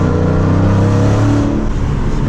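A Dodge Challenger SRT 392 V8 roars under hard kick-down acceleration, its deep exhaust note rising steadily in pitch, loud and close from start to finish.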